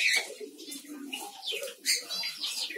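Close bird calls on a bird farm, a mix of soft cooing and sharp chirps repeating over a few seconds.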